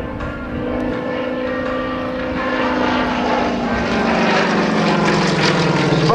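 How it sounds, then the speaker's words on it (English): A Yak-50 aerobatic plane's piston engine and propeller drone steadily at an airshow, a rough buzzing roar that stays loud and slowly shifts in pitch as it passes, with no talk. "The roll rate of the Yak-50 there is pretty impressive."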